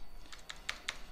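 A handful of quick, light keystrokes tap on a computer keyboard, about five soft clicks in a short, quiet burst.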